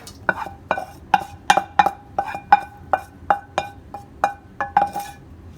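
Browned, softened vegetables for a sausage casserole are moved into a bigger pan, with a dozen or so sharp metallic clinks and scrapes of a utensil against cookware in a steady rhythm.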